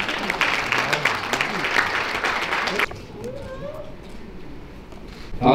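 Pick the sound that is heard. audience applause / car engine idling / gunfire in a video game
audience applause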